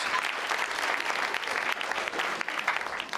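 An audience at a comedy show breaks into steady, full applause, many hands clapping continuously and fairly close for the whole stretch with no voices standing out.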